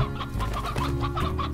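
Chickens in the Slime Rancher video game cluck in short repeated bursts over steady game music, fairly close and moderately loud.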